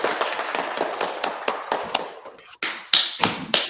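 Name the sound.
people clapping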